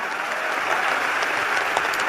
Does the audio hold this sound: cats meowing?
no